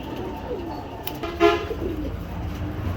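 A male Giribaz pigeon gives a short cooing call amid background noise and a distant vehicle horn, fairly near and brief.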